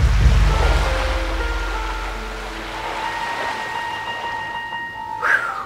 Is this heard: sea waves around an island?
yes